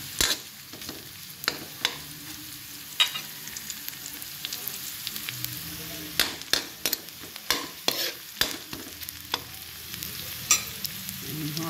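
Garlic and onion sautéing for chicken tinola, with steady sizzling and repeated stirring clatters of a utensil against the pan throughout, close and moderately loud with no talk.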